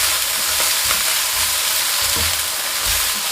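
Shredded carrot, wood ear mushroom, mung bean sprouts and glass noodles sizzle steadily in a hot wok, with scraping stirs of a spatula breaking in every second or so, up close and without talk.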